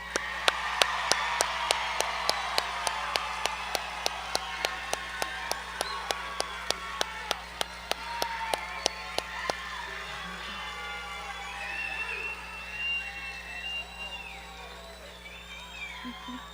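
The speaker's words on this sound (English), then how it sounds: "let's give them a round of applause that they deserve" Audience applause at a nursing pinning ceremony, a steady wash of clapping that swells early and gradually thins out, punctuated by sharp regular clicks and faint stray voices toward the end.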